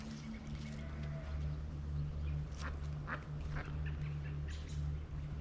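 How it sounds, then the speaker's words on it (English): Mallard ducks quack softly outdoors in nature, a few scattered quacks at a distance over a steady low hum and ambient noise. "mallard ducks."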